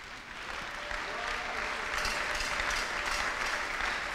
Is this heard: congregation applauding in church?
yes